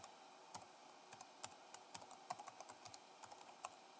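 Password typed on a computer keyboard: quiet, irregular clicking keystrokes with a few sharper presses, close and alone with no talk.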